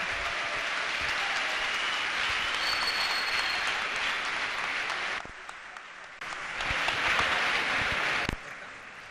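Applause from an audience at a conference session, moderate and steady, briefly dipping to near quiet midway before a second burst of clapping resumes and then cuts off.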